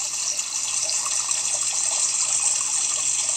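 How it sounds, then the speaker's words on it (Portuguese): A public water fountain splashes continuously, a steady close rush of falling water with no other sounds. "Mais um pouquinho aí com esse chafariz, essa água linda."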